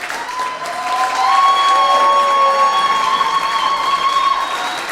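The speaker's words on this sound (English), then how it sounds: "Round of applause for a lot of votes." Applause and cheering from a crowd at a 2016 UCLan students' union election results announcement, a sustained loud wash of clapping that builds after the first second, with whistle-like cheers and shouts running over it.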